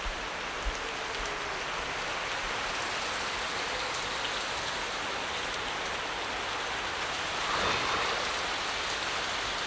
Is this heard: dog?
no